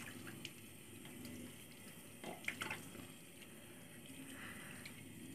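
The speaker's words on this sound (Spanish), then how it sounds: "Luego me enjuago las manos con harta agua para sacar todo el jabón." Running tap water pours steadily over hands being rinsed of soap at a sink, a soft continuous splashing with a few brief drips and louder splashes, fairly quiet and with no voices.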